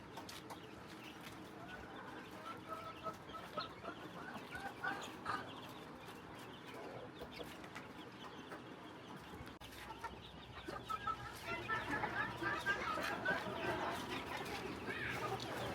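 Domestic chickens kept on a rooftop, one of them sick, cluck softly in intermittent bursts at close range, growing busier and louder toward the end over low background noise.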